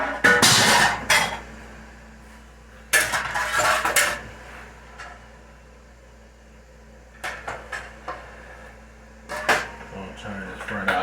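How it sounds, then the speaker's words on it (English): A fresh pan is pulled out in a busy home kitchen, with loud metallic clatter and banging of pots in bursts at the start and middle, then lighter knocks and clinks later. "Get me a fresh pan out."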